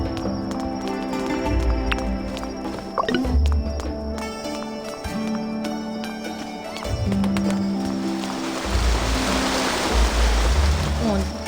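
Rushing waterfall ambience in the fantasy video game Dragon Era M, a steady wash of water noise that swells near the end beneath looping game music and footstep-like clops.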